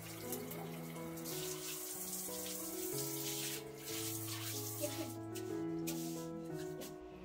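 Tap water running while a cleaned bathroom surface is rinsed after scrubbing with detergent and lemon, a continuous close splashing flow that shifts in pitch as it fills and drains, no voices.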